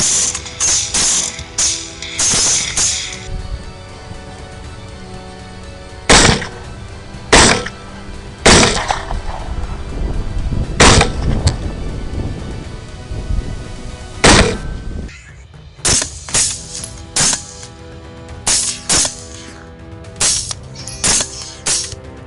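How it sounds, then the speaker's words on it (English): Video game battle gunfire mixed with mechanical ratcheting and clanking, with sharp isolated shots punctuating a dense, continuous mechanism-like din over about twenty seconds. "the next series of shots rang out, swift, clean, and precise"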